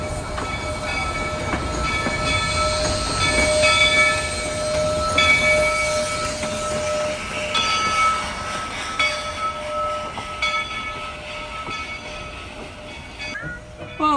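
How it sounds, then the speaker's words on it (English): A train engine runs around to the other end of its train at the Silver Plume depot in Colorado, a steady rumbling rail sound with faint metallic squeals and a tonal hum, sustained and moderately close. "time for the engine to get on the other side of the train to back us down the hill."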